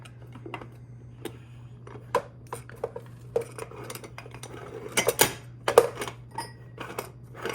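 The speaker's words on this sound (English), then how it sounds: "this is where we're gonna just screw this back on" An aluminum Bialetti moka pot is screwed back together up close, with scattered light metallic clinks, scrapes and ticks over a faint steady hum, getting a little busier toward the end, with no talking.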